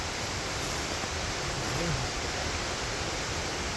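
Cucumber Falls in Ohiopyle State Park, a waterfall heard as a steady broadband rush of falling water, continuous and fairly loud, with faint outdoor background and no clear talk.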